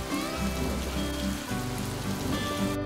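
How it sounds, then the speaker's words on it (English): Steady rain falls outdoors, a dense even patter holding at a constant level for a few seconds, with no voices. "Sometimes it's rainy."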